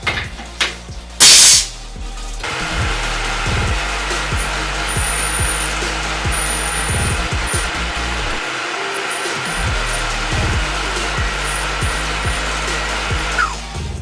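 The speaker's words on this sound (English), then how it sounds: "Tool number 3, 159 drill for 1032 tap." A Tormach 1100 CNC mill runs a 159 drill for a 10-32 tap, giving a steady, loud mechanical whir with a regular pulsing undertone and a short sharp burst near the start.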